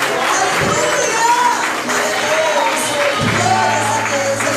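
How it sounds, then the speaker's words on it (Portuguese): A church congregation claps and cheers during worship, a steady dense mass of applause lasting throughout, with voices and shouts mixed in. "Aplauda o Senhor, aplauda o Senhor."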